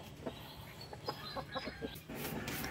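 Rhode Island Red chickens clucking in a breeding pen on a chicken farm, a string of short, soft clucks at moderate distance over steady low background noise.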